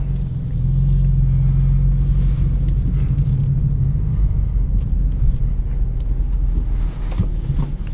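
Interior of a 2018 BMW M4 Competition coupe with manual gearbox on the move, a steady low engine drone and road rumble that stays constant throughout, with no talking.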